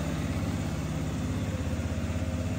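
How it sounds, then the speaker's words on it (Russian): A 2021 Yamaha Jog YA01 scooter engine runs at a steady idle, a quiet, even pulsing putter close by with no voices. "запустим двигатель"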